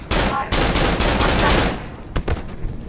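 Rapid gunshots from the horror game Cry of Fear fire in a loud, close string of evenly spaced bangs, then a few sparser shots trail off near the end.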